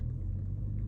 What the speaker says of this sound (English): a car pulls like right in front of me